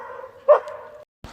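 A dog gives one short, sharp bark on a river trip after a storm, cutting above a steady low droning hum, followed by a brief silence.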